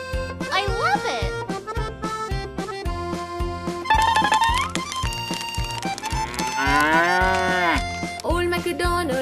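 A voice imitates a cow's moo over bouncy music in the children's nursery rhyme "Old MacDonald Had a Farm". Repeated, drawn-out moos ride over a steady beat and melody.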